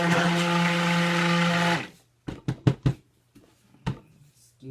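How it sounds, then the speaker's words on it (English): A stick blender whirs steadily while mixing soap, loud and constant, then cuts off, followed by a few scattered handling clunks and taps in near silence. "so I apologize for the noise of the stick blender."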